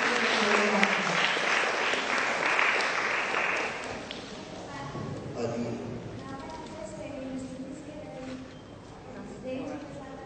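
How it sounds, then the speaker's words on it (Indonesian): Applause from a crowd of children and adults at a Jakarta city hall gathering with young student health cadets, loud and dense at first, then fading within a few seconds as voices and murmuring take over. "Oke, kita tepuk tangan dulu."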